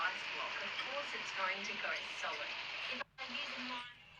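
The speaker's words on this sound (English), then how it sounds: "torrential rain. It was ridiculous. It was so loud." Torrential rain drumming on a roof in a dense, steady hiss, played back through a device with a brief cut near the end.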